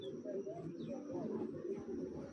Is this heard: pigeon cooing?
yes